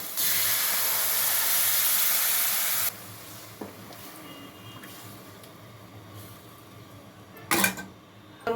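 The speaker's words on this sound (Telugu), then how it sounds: "ఇప్పుడు చింతపండు పులుసు పోతున్నానండి" Tamarind extract poured into hot fried masala for a fish curry gives a loud steady hiss and sizzle for about three seconds, then quieter bubbling with a sharp clatter near the end.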